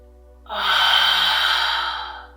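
A single loud, deliberate yoga breath: a long, airy inhale flowing into an audible exhale, swelling and fading over about two seconds, close and alone without talk.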